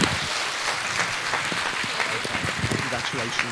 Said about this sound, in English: can we give Eleanor a big round of applause as well?